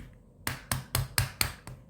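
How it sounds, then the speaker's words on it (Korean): A hammer strikes a flat nail held against a transformer's E-shaped laminated core to loosen it: six sharp, evenly spaced metallic knocks, close and loud, with no talking. "이쪽에 일자못을 대고 이런 망치를 이용해서 이쪽을 때려주시는 거예요"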